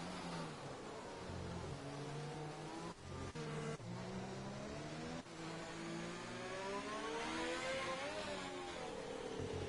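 Formula 1 cars on a formation lap at Singapore in the F1 2020 racing game drone steadily, with layered engine tones rising and falling as several cars accelerate and pass, loud and continuous.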